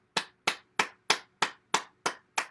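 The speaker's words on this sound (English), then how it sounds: "Let's continue with clapping." Hands clapping against the body during a morning bouncing exercise: eight crisp, close slaps in a steady, evenly spaced rhythm, with no talking.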